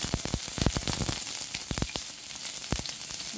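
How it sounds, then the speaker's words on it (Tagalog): Onion sautéing in hot oil in a frying pan, a constant bright sizzle with sharp crackles and pops scattered throughout at moderate volume. "unahin kong igisa ang aking onion"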